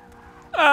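In the Forza 6 racing game, a Porsche's tires screech as the car understeers. A rising squeal bursts in loudly over a low engine hum and holds to the end.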